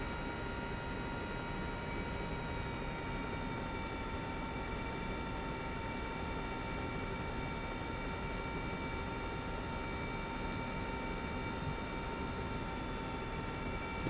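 A Mi-2 helicopter in Microsoft Flight Simulator 2024 gives a steady, unbroken engine drone with a constant high whine on top. It stays loud and even throughout, with no talk.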